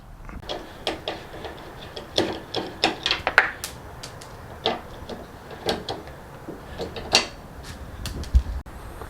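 Phillips screws and a 10mm bolt being removed from a Mitsubishi Lancer bumper bracket, heard as scattered close clicks, ticks and small metallic taps in an irregular rhythm over a quiet background.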